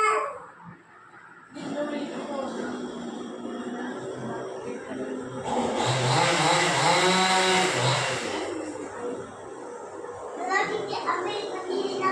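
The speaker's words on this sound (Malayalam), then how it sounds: "ഈ ഇടയ്ക്ക് ഒരു സൗണ്ട് കേൾക്കണതേ അപ്പുറത്ത് മരം മുറിക്കണ സൗണ്ടാണ്" A chainsaw or power saw cuts a tree nearby, its rising drone running steadily under ongoing talk and children's voices, and briefly growing louder in the middle.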